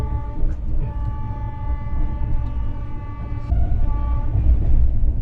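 A Rajdhani Express train running from Dehradun towards Delhi, a loud steady rumble and rattle with a sustained multi-tone horn sounding over it, no talk.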